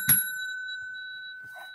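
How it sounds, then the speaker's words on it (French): A small bell rung once to signal the start of a story, a single bright ding that rings out and fades slowly in a quiet room. "Dès que vous entendez la petite sonnette"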